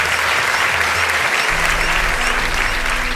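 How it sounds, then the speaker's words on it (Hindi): Sustained applause from a large crowd at a Tribal Pride Day rally in Bhopal marking Birsa Munda's birth anniversary, dense and loud clapping rolling on continuously with a low rumble rising partway through. "भोपाल में जनजातीय गौरव दिवस में जुटी भीड़ पीएम मोदी की योजनाओं पर तालियों के जरिए अपनी मोहर लगा रही थी।"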